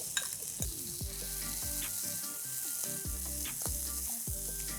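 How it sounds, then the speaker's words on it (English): Loud, continuous sizzling and crackling as chopped onion and corn stir fry in a hot pan, with repeated scraping knocks of a spatula stirring at a quick, uneven rhythm. "I'm going to start by stir frying some of the veggies."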